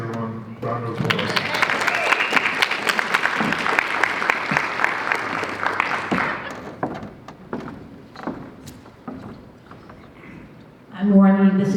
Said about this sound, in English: Diane Bostic, everyone, round of applause